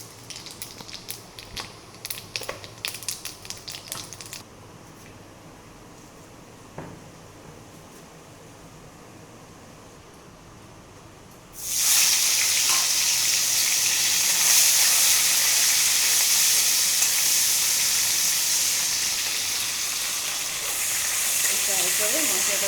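Masala frying in hot oil for a Bengali fish curry, a quiet stretch of faint clinks and stirring before a sudden loud, steady sizzle bursts in and continues close to the end.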